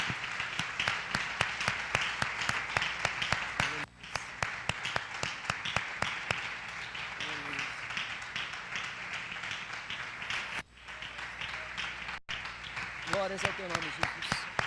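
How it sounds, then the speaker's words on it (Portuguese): A church congregation claps for Jesus in a long, steady burst of applause with sharp individual claps standing out, briefly dipping twice before resuming, with some voices and music tones mixed in. "Dê uma salva de palmas a Jesus."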